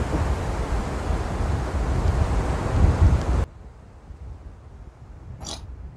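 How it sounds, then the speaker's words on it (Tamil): Strong wind blows hard across the microphone at the seashore in Kanyakumari, roaring loudly with surf underneath, then suddenly drops to a quieter wash of waves. "காற்று நல்லா பலமாக வீசிட்டு இருக்குது எனக்கு, அதனால தான் அலைகள் வந்து இப்படி வந்துட்டு இருக்கு"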